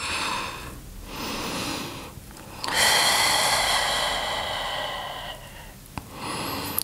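Slow, audible breaths, with long airy inhales and exhales, during an energizing mobility and flexibility yoga flow. They come close and steady with a soft rhythmic rise and fall and no talking over them.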